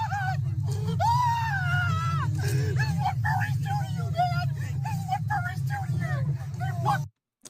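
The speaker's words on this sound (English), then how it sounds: "The high-pitched shrieks are pretty aggressive." Aggressive, high-pitched shrieks from a furry wail and warble again and again over a constant low rumble, loud and close. The noise then cuts off abruptly near the end.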